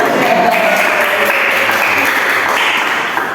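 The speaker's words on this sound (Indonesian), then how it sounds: "Tepuk tangan dulu." A group of students claps together in a classroom guidance session, a dense, loud, sustained burst of hand clapping that holds steady and then tapers slightly at the end.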